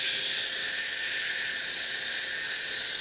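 A Team RC Micro UFO toy helicopter in flight, its tiny rotors giving a continuous, high, whining buzz that stays close and steady with no voices.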